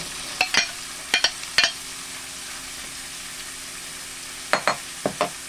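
Chicken and bitter gourd frying in a curry pan under a steady hiss, with several short bursts of scraping stir strokes in pairs near the start and again near the end, close and clear with no talk.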